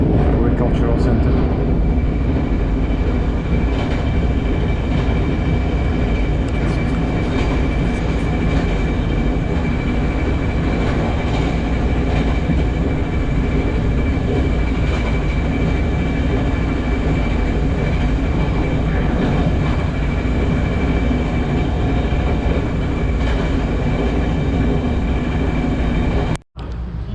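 Inside a Puyuma Express tilting train in Taiwan heading toward Tainan, a continuous loud rumble and hum of the carriage running at speed, with steady wheel and motor drone and a recorded announcement voice over it.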